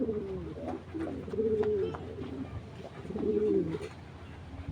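A female racing pigeon coos in a close, repeated series of low, throaty warbling calls, two fuller bouts standing out over steady faint background noise, with no voices.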